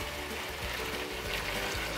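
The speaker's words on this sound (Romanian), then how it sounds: "Pun apă fierbinte" Steady hot water splashing and trickling into a pot of chicken and onion stew, continuous and close, with no voices.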